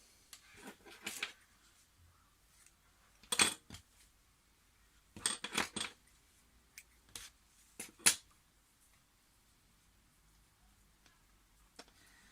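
Scissors cutting silk fabric for a handmade silk hibiscus flower: several short, crisp snips in separate bursts with quiet gaps between, close and fairly faint.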